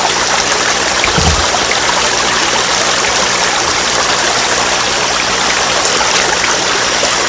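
River water flowing in a rural farming area, a loud continuous close rush and babble with no talking.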